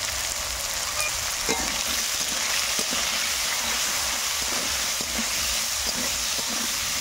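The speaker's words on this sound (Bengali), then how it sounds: "তেল গরম হয়ে গেছে, এবার কেটে রাখা আলু দিয়ে দেবো।" Cut potatoes, with a little salt and turmeric, fry in hot oil in a village kitchen: a constant loud sizzle with a few soft knocks and scrapes from stirring, and no talk.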